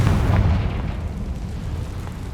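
A Confringo fire spell explodes in the Hogwarts Legacy video game, one loud, deep, rumbling blast that fills the clip and slowly fades without a pause.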